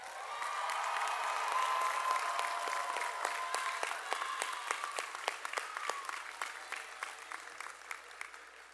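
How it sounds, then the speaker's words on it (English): Graduates at a commencement ceremony applaud the faculty and staff, a steady wash of many hands clapping that thins toward the end into scattered distinct claps, heard from some distance. "why don't you turn back this way and applaud the faculty and staff"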